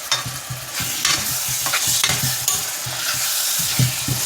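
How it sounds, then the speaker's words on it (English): Ackee frying in oil for a Jamaican ackee and red herring dish, a steady close sizzle with repeated scraping stir strokes in a rhythmic pattern, no talking. "So ackee for cooking in oil."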